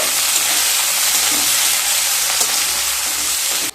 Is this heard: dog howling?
no